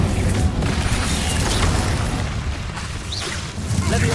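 Hogwarts Legacy Incendio fire spell going off in a loud burst: a roaring, crackling whoosh of flame with heavy low rumble, sustained and dense, amid other spell impacts.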